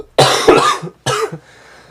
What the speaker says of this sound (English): I've had like a cough that I can't like get rid of